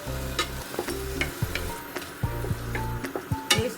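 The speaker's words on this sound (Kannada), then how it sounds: "ಪನ್ನೀರನ್ನ 1-2 ನಿಮಿಷ ಬಾಡಿಸ್ಕೊಳ್ಳೋಣ." Paneer frying in a little oil in a pan, a close sizzle under repeated scraping and stirring strokes of a spoon against the metal, with occasional clinks.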